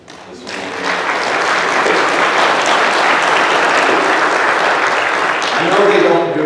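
A church congregation applauds its singers and musicians during a Sunday morning service, a loud, dense, sustained wash of clapping that swells after a brief start and holds steady throughout.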